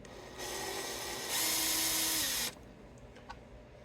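A power driver whirs on the screws of a vintage 1970s Gibson SG guitar, two close bursts with the second higher and louder, then it stops and faint clicks follow.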